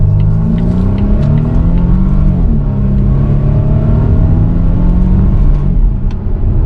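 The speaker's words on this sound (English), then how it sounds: "the exhaust note is really good on this XC90" Loud, close engine drone from a 2022 Volvo XC90 T6 turbo four-cylinder SUV, revs rising and falling, a deep exhaust rumble throughout, steady without any talking.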